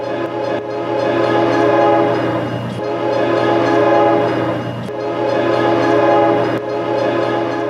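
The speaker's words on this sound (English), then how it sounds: "Well, here comes the train." A loud train rumbles close by, its sustained horn-like drone swelling and easing over several seconds with a continuous rolling roar underneath.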